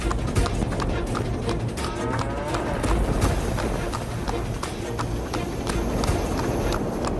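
Running hoofbeats of a buffalo and its calf in a cartoon scene as the weather turns bad; a fast, steady clatter of hooves carries on without pause over rumbling background noise.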